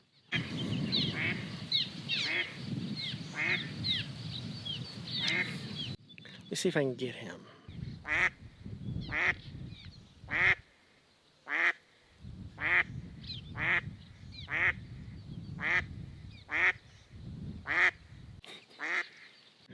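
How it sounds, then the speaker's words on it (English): Waterfowl calling outdoors, a series of loud, rhythmic quacking or honking calls repeating steadily, with someone talking over the first part. "I'm standing here surrounded by birds chirping all over"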